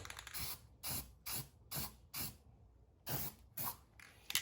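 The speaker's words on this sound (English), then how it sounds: "Gonna hit this with a little Rust-Oleum rust reformer." Rust-Oleum rust reformer sprayed from an aerosol can onto the rusty passenger rear quarter panel of a 1966 Ford Mustang coupe, in a rapid series of eight or so short, loud hissing bursts with brief pauses between them.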